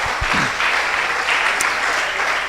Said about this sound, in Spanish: denle un aplauso por saberse ese versículo de la Biblia